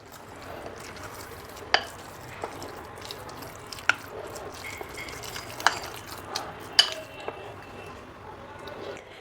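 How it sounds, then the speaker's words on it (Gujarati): Semolina and poha dhokla batter being stirred as buttermilk is poured in: soft wet squishing and sloshing with a few sharp clinks of a spoon against the bowl, close and moderately quiet. "હવે આ બેટર પરફેક્ટ કરવા માટે વધારાની આપણે 1 વાટકી છાશ ઉમેરશું અને થોડી થોડી છાશ ઉમેરતા મિક્સ કરશું"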